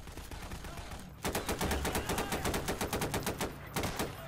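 Rapid automatic gunfire in the video game Garry's Mod during a fight against zombie hordes, a dense rattling burst of evenly spaced shots that starts after a second of quieter background noise and runs on, loud and close.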